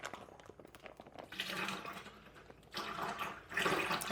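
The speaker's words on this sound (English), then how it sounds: "next step is to pour the juice contents out of our bag into our bucket" Pina colada juice is poured from a large bag into a bucket for homemade wine, quiet splashing and gurgling in uneven bursts that swell and pause, with no talk.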